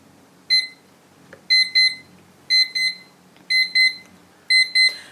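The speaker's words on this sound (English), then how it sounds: "when the alarm goes off," A classroom timer alarm beeps in repeated double bursts, about five pairs of sharp high-pitched tones at a steady rhythm, loud against a quiet room.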